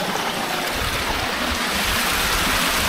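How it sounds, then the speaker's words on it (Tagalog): A strong river rushes past up close, a loud, steady roar of churning water that holds constant without a break. "Ang lakas ng tubig dito,"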